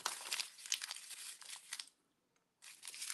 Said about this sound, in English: we're going to take these and we're just going to crumple them